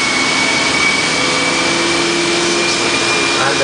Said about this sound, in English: the trolleys get a little bit noisy when we're going up